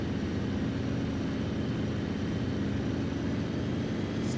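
Propeller aircraft engine in the IL-2 1946 flight game, a steady loud droning roar that holds unchanged from start to end, with no talk.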